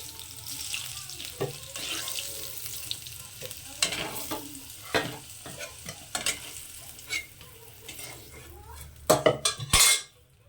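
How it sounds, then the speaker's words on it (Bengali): Fried potato chunks are scooped from a pan into a pressure cooker for fish khichdi, with utensil scrapes, clinks and clatter of cookware, a faint background hum, and a louder metallic knock near the end. "তো দেখুন আলুটাও ভাজা হয়ে গেছে তো আলুটাকেও আমি এই কুকারের মধ্যে নিয়ে নিচ্ছি"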